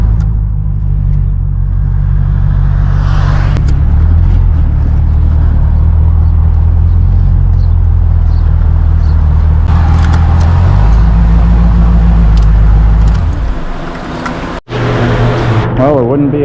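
A C4 racecar engine runs on its first test drive, a steady, loud low rumble that shifts in pitch a few times as revs change, then briefly cuts out near the end before resuming.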